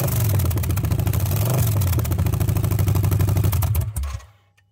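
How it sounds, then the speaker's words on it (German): A Triumph Bonneville motorcycle engine with its exhaust header pulled off the cylinder runs loud and raw, a rapid clattering, popping beat that holds steady, then cuts off and dies away to near silence. "Jetzt hört sich das Moped auch an wie eine Enduro."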